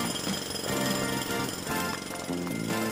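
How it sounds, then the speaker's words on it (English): A cartoon road drill hammers continuously for three seconds, a loud, rapid mechanical rattling with a steady pounding rhythm and nothing else heard over it. "Oh, the road drill should work."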